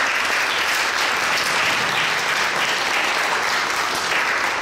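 Sustained audience applause fills a ceremony hall in Turda, Romania, dense and steady throughout with no talk over it.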